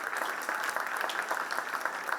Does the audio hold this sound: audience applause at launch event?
yes